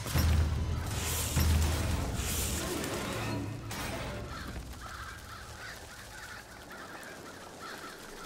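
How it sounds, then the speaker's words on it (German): Crows from the crow power in Bioshock Infinite caw repeatedly in a loud, dense flurry of harsh calls over a game soundscape, fading into a softer murmur toward the end. "Ohne meine Krähen auszulösen, meine ich natürlich. Die dann wieder Krähen produzieren."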